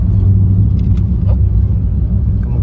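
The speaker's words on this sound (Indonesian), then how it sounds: "Ada mobil bawa bantuan ya." A car in Indonesia carrying aid supplies passes on a rough, damaged road, a steady close engine rumble with a faint swell of passing noise and no talk.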